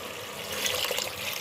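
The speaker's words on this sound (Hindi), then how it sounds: "अब हम इसमें अपना पानी ऐड कर देंगे, क्योंकि हमने शोरबे वाला सालन बनाना है।" Water poured into well-fried masala for a soupy aloo gosht (mutton and potato) curry, a steady close-up splashing hiss lasting about a second and a half, with no talking.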